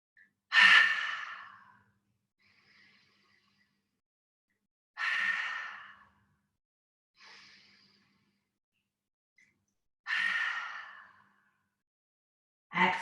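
Three slow, deep breath cycles during a yoga HIIT cooldown, each a long airy inhale through the nose followed by a softer exhale through the mouth, close and clear with quiet pauses between and no talking.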